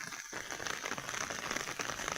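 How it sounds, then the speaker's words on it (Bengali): Rain falling in a village, a steady dense patter of drops on surfaces, close and even throughout with no voices. "হয়তো বৃষ্টি আজকে সারাদিন হয়তো পড়তে পারে।"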